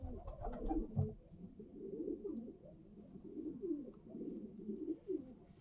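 Pigeons in a pigeon loft give soft, repeated throaty coos, several rolling phrases in a row at close range, with a few faint knocks and rustles near the start.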